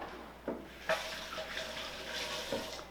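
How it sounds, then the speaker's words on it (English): Hands are rinsed under a running kitchen tap, with a soft, steady stream of water and a few brief splashes and knocks. "And then I'll rinse my hands again."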